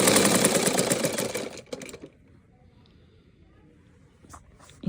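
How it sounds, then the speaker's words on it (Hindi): A sewing machine stitches a fabric strip in a fast, steady rattling run for about two seconds, then stops, leaving faint handling clicks and near-quiet. "इसी तरीके से हम दोनों पे सिलाई लगा लेंगे।"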